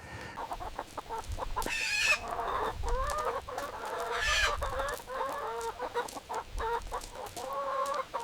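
Bresse chickens on a farm in France, clucking and squawking in an irregular, overlapping chatter of several birds close by, with a couple of louder calls standing out above a soft outdoor background.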